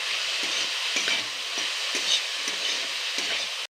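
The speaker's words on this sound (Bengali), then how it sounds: "হালকা তিন মিনিটের মতো লাড়বো ভালো করে তিন চার মিনিট" Baby jackfruit fry is stirred in a hot pan, with soft spatula scrapes repeating every half second or so over a constant close sizzle, and nobody speaking.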